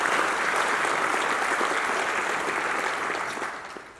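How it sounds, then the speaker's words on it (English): Steady round of audience applause at an outdoor Avenue of Heroes ceremony in Coronado, honoring local heroes, dense and even clapping that fades slightly at the end. "Will you all please give them a round of applause?"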